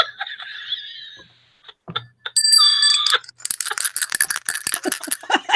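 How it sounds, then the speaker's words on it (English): A short muted bell effect, played as a comic sting right after a corny turkey joke on a kids' show, sounding once with a bright ringing tone amid rattly noises and laughter. "muted bell"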